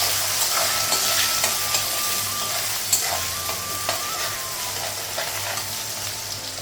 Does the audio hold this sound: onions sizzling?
yes